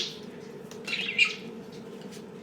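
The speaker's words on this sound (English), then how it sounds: "I just realized those birds have been so loud." Several birds call and squawk outdoors in brief bursts, moderately loud, over a steady low background hum with no talking.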